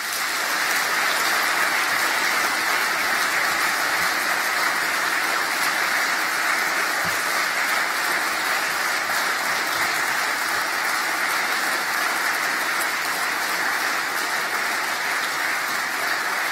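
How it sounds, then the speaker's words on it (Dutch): A large party congress audience claps loudly and continuously in a dense, even wash of applause that stays strong throughout. "een hard applaus"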